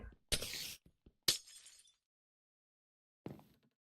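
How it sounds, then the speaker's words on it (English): Glass blocks shatter in Minecraft in three separate crisp breaking bursts, the first two close together and the last after a pause, with silence in between. "we're just going to have to break that glass out of there then"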